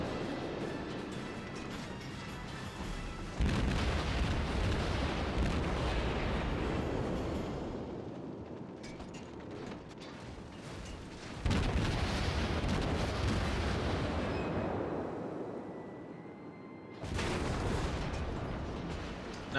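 Heavy naval gunfire trades back and forth during a ship battle in World of Warships, with loud booming salvos arriving in three big bursts that decay into rumbling, no voices.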